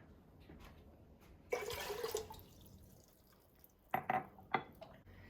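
Quiet kitchen sounds with short bursts of water splashing and pouring into a metal pot, plus a few clinks.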